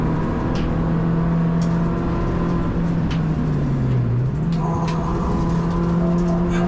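Citroën DS3 Cup race car pulling onto Island Straight at Oulton Park under throttle, a steady, droning engine note heard from inside that dips briefly before climbing again, loud and continuous with no talk.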